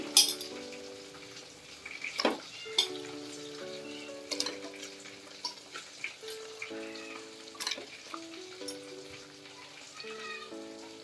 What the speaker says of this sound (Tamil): இந்த சமயத்தில் சிக்கன் ஆட் பண்ணிக்கலாம்.